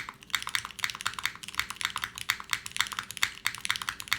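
Fast, steady typing on a Lamy TKL mechanical keyboard, a quick run of crisp clacky keystrokes heard close and alone.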